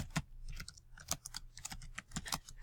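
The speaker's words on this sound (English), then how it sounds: "I'm just typing, just like you would type in Word or anything else." Steady typing on a computer keyboard while entering spreadsheet data: close, quick irregular key clicks with short pauses between bursts, and no talking.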